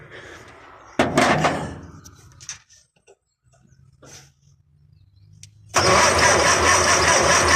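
A 1954 Austin A40 Somerset under restoration cranks with a rough churning burst, falls quiet after a few clicks and a low hum, then fires into a loud, sustained engine roar up close.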